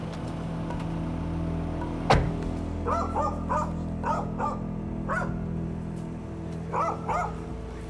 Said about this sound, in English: Now, it's just dogs there.